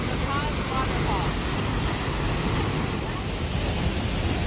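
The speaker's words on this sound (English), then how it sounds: "La Paz Waterfall." La Paz Waterfall in Costa Rica gives a constant loud rushing roar of falling water, steady throughout, with some wind buffeting and a voice faintly under it.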